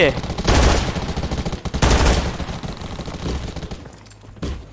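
An M249 machine gun fires in the video game Undawn, rapid sustained bursts of loud automatic gunfire with a short pause between them, fading toward the end.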